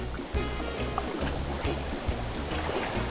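Heavy rain pours outdoors on an island in Japan, a dense, steady hiss of water with spattering drops and wet rumble, close and continuous, no talk.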